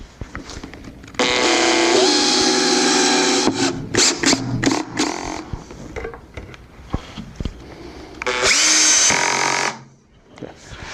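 A power drill drives screws into the folding legs of a homemade poker table in a workshop, with two long loud whirring bursts separated by knocks and handling clatter before the motor winds down.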